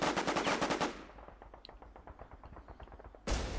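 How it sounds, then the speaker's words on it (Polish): Rapid bursts of automatic gunfire in the shooter game War Inc. Battle Zone, a loud sustained volley that tails off into sparser distant shots before another loud burst. "gdzie moi strzelają i wtedy ewentualnie w tamtą stronę też oddawać strzały"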